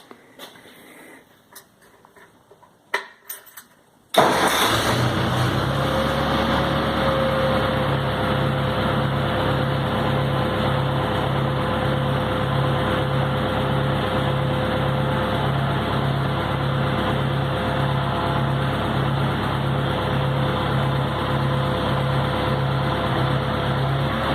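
A 1972 Waldon 5000 machine engine cranks and catches after a few seconds of handling noises, then settles into a steady, loud, even idle with a rhythmic pulsing hum that continues uninterrupted.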